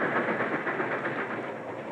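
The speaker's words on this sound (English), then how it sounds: "the powerful steam engine" A powerful steam engine hauls a long freight train on the rails, a steady, fairly faint rolling rumble with soft rhythmic clatter and no voices.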